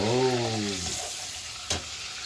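Steady soft sizzling and bubbling from a pan of simmering cod, with a faint voice fading out at the start and a small clink partway through.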